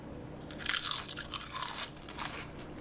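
Close, crisp crunching as someone bites into and chews a homemade kale chip, a quick burst of brittle crackles repeating over a couple of seconds with no talking.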